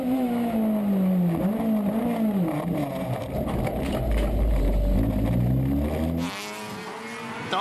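A race car howls at full throttle on a flying lap at Tsukuba Circuit, its loud engine note rising and falling through gear changes before dropping off sharply near the end.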